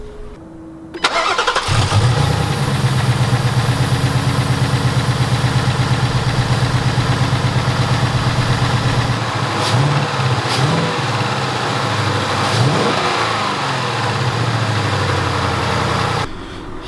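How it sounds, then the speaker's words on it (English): A 2018 Ford Mustang's 5-liter V8 starts with a loud catch, then holds a steady, throaty idle before being revved in several sharp blips near the end, close and loud with no talking. "We're going to start up so you can hear just what this 5-liter V8 engine sounds like"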